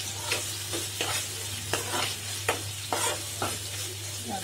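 A spoon stirs tomato masala with salt in a pan for a jackfruit curry, producing about eight rhythmic scraping strokes over a constant frying sizzle, close up with a low hum beneath and nobody speaking.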